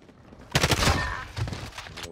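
Video game gunfire pops out as a short, loud cluster of rapid shots, followed by a second, weaker burst.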